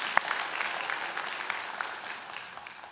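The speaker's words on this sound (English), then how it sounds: "Give yourselves a big round of applause" Graduates at a fall convocation ceremony clap together in a steady, moderately faint round of applause, a dense crackle of many hands with one sharper clap near the start.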